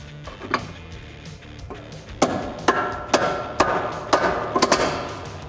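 Hammering a lower ball joint into the spindle of a 2005-2010 Ford Mustang: a few light taps, then a series of sharp metallic strikes in an uneven rhythm, close and loud.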